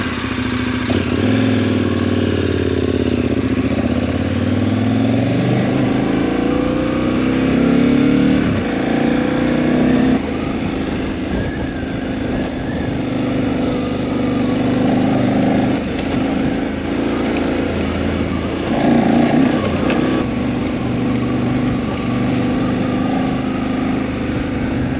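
Big adventure motorcycle riding a scenic byway near Moab, its engine droning steadily and loudly up close, with rising and falling revs and rumbling wind and road noise throughout.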